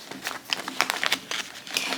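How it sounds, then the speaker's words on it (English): Plastic bag packaging for a cross stitch kit, fitted with a button snap and a hanger, crinkles up close in a quick run of sharp, papery bursts with no talking. "this does come in a kind of plastic bag with a button snap and a hanger"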